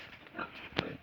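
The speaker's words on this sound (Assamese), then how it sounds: "আজি আপোনালোকক এখন গাহৰি ফাৰ্ম দেখুৱাবলৈ চেষ্টা কৰিম" Pigs on a pig farm in Assam let out a couple of brief, rough grunts, the sharper one near the end, against a low farmyard background.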